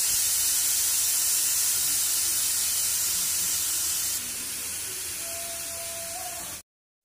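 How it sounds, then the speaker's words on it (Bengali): Khichuri cooking in a pressure cooker gives off a steady, loud steam hiss that runs unbroken for about six and a half seconds, then cuts off abruptly into silence. "তো প্রেশার কুকারে আজকে খিচুড়ি বসিয়েছি"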